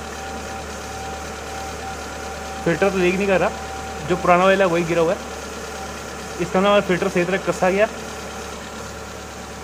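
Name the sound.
Hyundai Santro engine idling with AC on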